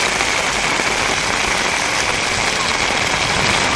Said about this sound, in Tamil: நீலகிரி மாவட்டத்தில் உதகை, குன்னூர், கோத்தகிரி உள்ளிட்ட பகுதிகளில் திடீர் என்று மழை பெய்தது